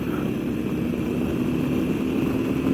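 Harley 883 Sportster engine accelerating hard after a downshift, a loud continuous low engine roar with steady wind rush, close and alone.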